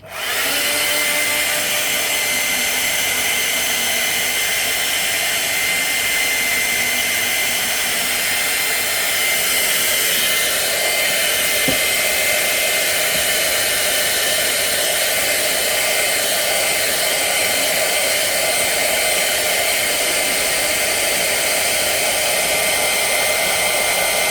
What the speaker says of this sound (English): we will get the hairdryer out and we'll give it a quick blast